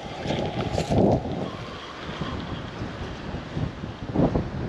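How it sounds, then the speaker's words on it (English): Strong gusty wind buffets the microphone outdoors beside a backyard pond, with a low rumbling roar that swells in bursts and no voices. "The wind is making this uh, pretty difficult."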